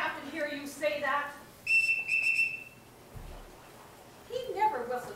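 A captain's whistle blown during a stage production of The Sound of Music sounds one loud, shrill, steady blast, then a second shorter one, between stretches of talking and singing.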